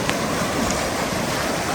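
Steady broadband rush of a river flowing past a riverside lunch stop in the Kyrgyzstan mountains, a constant close wash of water with no voices over it.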